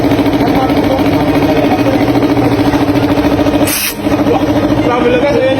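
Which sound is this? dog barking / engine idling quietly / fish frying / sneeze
engine idling quietly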